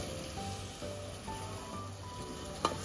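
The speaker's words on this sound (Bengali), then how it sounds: "এই পর্যায়ে দিয়ে দিচ্ছি কেটে ধুয়ে পরিষ্কার করে রাখা চিংড়ি মাছগুলি" Prawns and potatoes hitting a pan of fried spice paste for a Bengali prawn and ridge gourd curry, giving a steady, moderate sizzle with a brief stir clatter near the end.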